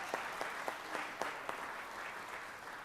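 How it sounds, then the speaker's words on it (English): Light, faint applause from members of the Georgia state senate chamber, with a few distinct claps rising out of a soft, steady patter. "Y'all give Sam a big round of applause."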